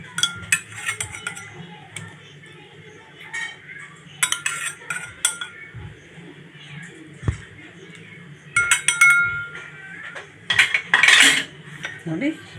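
Soaked chia seeds being mixed in a bowl with a spoon make clinking and scraping clatter in short bursts, close by, with a person talking quietly in between.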